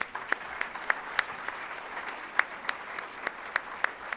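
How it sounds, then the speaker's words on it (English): Light applause from a small audience at a Hispanic Heritage community breakfast welcoming a speaker, a handful of distinct claps over a soft murmur, brief and fairly quiet. "Please clap for Robert J."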